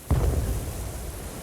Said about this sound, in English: the sound of a distant explosion echoes across the beach